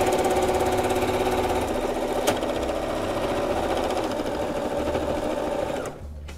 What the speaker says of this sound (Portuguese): Vem e passa uma costura então reta, bem nessa partezinha do canto superior aqui.